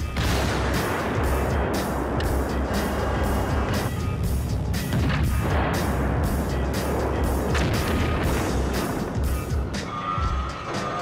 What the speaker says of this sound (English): The Leopard's gun is considered to be the best on the battlefield